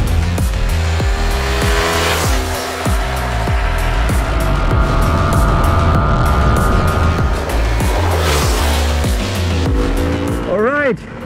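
A Suzuki V-Strom SX250 motorcycle engine revs hard while riding on the road, loud and continuous with rising and falling engine tones, mixed with wind noise.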